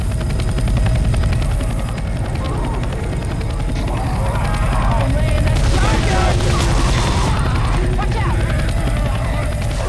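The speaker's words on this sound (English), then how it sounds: "There's a chopper." A helicopter in Left 4 Dead 2 gives off a steady, loud rotor drone that fills the scene, mixed with gunfire and booms, while voices talk over it.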